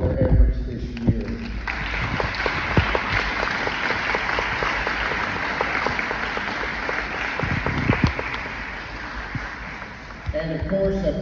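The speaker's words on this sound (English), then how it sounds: "give the kindergarten teachers a big round of applause for all of their efforts this year" A crowd at a kindergarten graduation ceremony claps for the teachers: dense, sustained applause rising after a short start and holding steady for about ten seconds, then easing off near the end.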